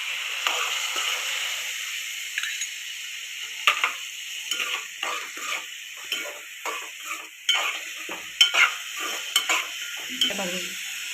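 Finely chopped tomatoes, about a cup, sizzle in a hot pan while a spoon scrapes and stirs them in a steady series of close, uneven strokes over continuous frying hiss; no one speaks.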